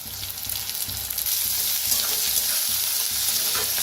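Curry leaves, spring onion and onions fry in a pan, giving a loud, continuous close-up sizzle with faint stirring scrapes and no voices.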